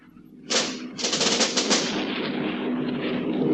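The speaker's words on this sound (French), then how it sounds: "ils ont de l'artillerie lourde" Heavy artillery and gunfire from a war film erupt suddenly, a loud sustained barrage of rapid blasts that rolls on continuously without a break.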